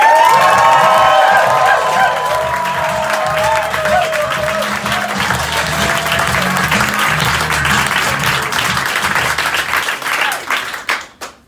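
A crowd bursts into loud applause with cheers and whoops, sustained for several seconds before fading out.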